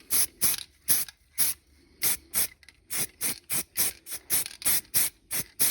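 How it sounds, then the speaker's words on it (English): Quick bursts of aerosol spray paint on the main rotors of a 1/100 scale AH-64 Apache model helicopter. About fifteen short, close hissing puffs come in an uneven rhythm with no talking. "give that one a quick spray"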